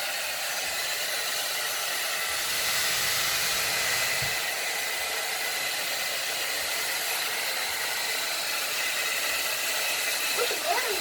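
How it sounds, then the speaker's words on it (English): A hair dryer blows steadily on a Yorkshire terrier during grooming, a constant close whooshing hiss for the whole span. "She doesn't like the blow dry in her face at all."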